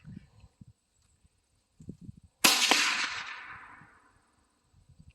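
One rifle shot fired at a family rifle range, a sharp crack followed by a reverberating tail lasting about a second and a half, set between short bursts of nearby voices.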